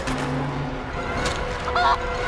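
A chicken conjured by a skill in Divinity: Original Sin 2 lets out a short, honking squawk in a brief burst over game background sound.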